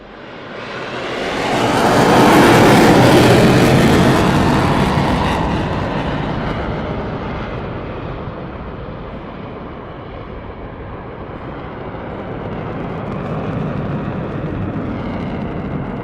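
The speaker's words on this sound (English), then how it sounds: "after this pass we'll be seeing the aircraft going into a muscle climb" A jet aircraft flying a display pass at an air show roars loudly, swelling to a peak early on and then fading into a sustained, distant rumble, with no talk over it.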